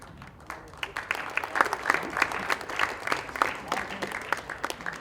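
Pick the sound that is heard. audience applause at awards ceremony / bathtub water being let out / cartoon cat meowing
audience applause at awards ceremony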